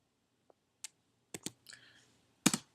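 Keys on a computer keyboard tapped while entering commands in a CAD drawing program: a handful of sparse, close clicks and clacks spaced irregularly, with a louder double strike near the end, no voices.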